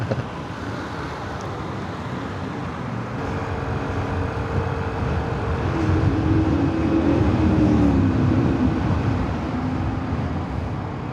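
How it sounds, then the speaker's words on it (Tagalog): Heavy road traffic hums and rumbles continuously, engines of many cars and trucks swelling louder toward the middle before easing slightly, with no talk. "yun daming sasakyan dito"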